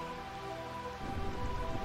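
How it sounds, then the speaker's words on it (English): Rain falls steadily in Final Fantasy IX's ruined city of Burmecia, a soft continuous hiss over low background music, growing a little fuller and denser partway through. "And while it's raining"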